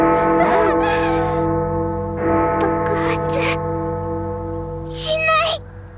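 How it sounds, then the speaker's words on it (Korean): A large clock tower bell rings with a sustained, humming tone and long resonant overtones, while voices briefly cry out over it, in an anime scene. "시계탑에 종이 울리고"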